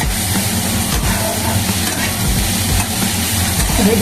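Eggplant, onion, tomato or cabbage pieces frying in hot oil in a pan, a steady close sizzle with stirring scrapes running throughout, no talking.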